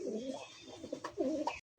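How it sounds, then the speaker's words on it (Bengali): A yellow female Lahori pigeon coos softly in a low, throaty warble, two or three rolling phrases close by before cutting off. "একদমই কাঁচা হলুদের একটা সিঙ্গেল একটা মাদি কবুতর লাহোরি"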